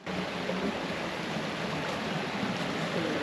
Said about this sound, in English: That bit was from earlier when we were walking across the creek.